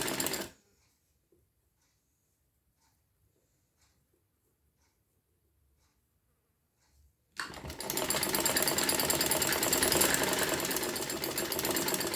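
A sewing machine stitches a kurti side slit with lace and a strip, starting with a brief burst, then several seconds of near silence, then a steady loud continuous run of fast stitching close up.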